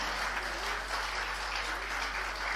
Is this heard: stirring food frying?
no